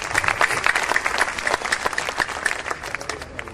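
Applause from the audience at a live Hindi kavi sammelan (poetry gathering) in Karnal, steady dense clapping filling the hall for a few seconds with a faint murmur of the crowd underneath.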